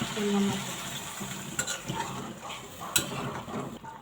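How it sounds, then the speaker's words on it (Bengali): Okra and potatoes fried in a pan for a shrimp curry: a soft, low sizzle with faint stirring and a couple of light utensil clicks. "ভালোভাবে সবজিগুলি কষিয়ে নেব"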